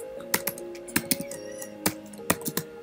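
Fingers tap out a git commit message on a computer keyboard, a quick irregular run of crisp clicks and key presses heard close in a quiet room, with a faint steady tone underneath and no talking.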